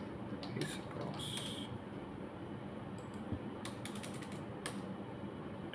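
Computer keyboard typing in a quiet room, a few scattered light key clicks and short bursts at moderate level with a faint steady background hum, no talking.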